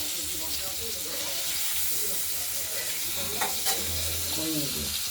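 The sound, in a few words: tomatoes frying and being stirred in a pan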